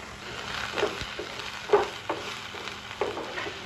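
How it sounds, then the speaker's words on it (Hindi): Onions fry in oil in a pan for tomato chutney, giving a soft, steady sizzle with a few brief stirring clinks on top. "तो सबसे पहले टमाटर चटनी के लिए हमने लिया तेल। अब इसमें मैं डालूंगी प्याज।"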